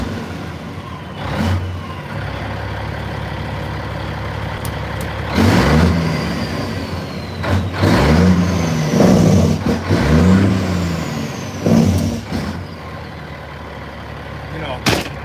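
Truck engine in a driving video game revving up and down in several surging bursts, with jake brake chatter rising and falling between quieter idle stretches.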